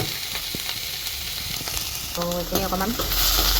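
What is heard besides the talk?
frying vegetables in oil for jackfruit sabji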